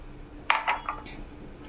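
A spoon clinks against a bowl while homemade herbal shampoo mixture is stirred, giving a few quick, close, bright taps and scrapes over a quiet background.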